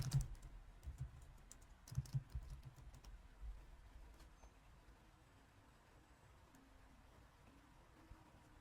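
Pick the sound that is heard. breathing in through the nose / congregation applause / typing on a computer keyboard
typing on a computer keyboard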